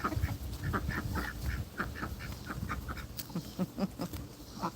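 A small flock of farm ducks quacks steadily at close range, with overlapping rapid calls and a busy, continuous chatter and no one talking.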